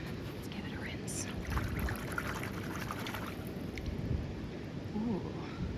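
A small green rock is rinsed in flowing river water, a steady close sloshing and trickling with low rumbling turbulence throughout.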